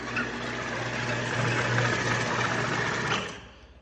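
A corn planter seed meter runs at about 83 RPM, giving a steady, even mechanical whir with a fine rapid rhythm, close and moderately loud before it winds down at the end.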